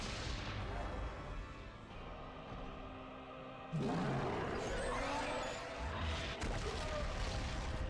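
Wheel of Fire spell cast in LOTR: The Third Age, a loud sudden burst of fiery crashing and rumbling blasts that swells midway and keeps roaring, following a quieter stretch of game sound.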